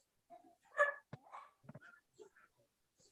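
Dogs barking in a few short, scattered yaps and huffs, close by and separated by quiet gaps, with some breathy sniffing between the barks.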